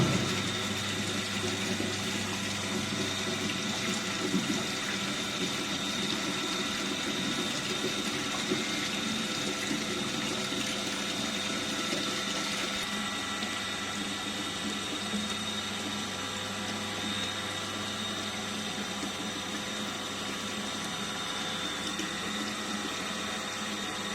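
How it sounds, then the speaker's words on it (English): Water pours steadily into a measuring tank on flow measurement lab equipment, a continuous splashing rush with a pump-like mechanical hum underneath, even and close throughout, with no voices. "So we have to start collecting water in water tank."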